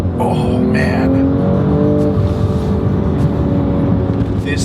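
A 2022 BMW M240i xDrive on winter tires pulls hard under acceleration, its engine note rising in a steady loud drone from start to finish, with brief bursts of voices near the start.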